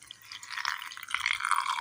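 Water poured into a mixer jar over chopped shallots, onion, green chillies, curry leaves and grated coconut, a short soft trickling splash that grows slightly louder as it fills.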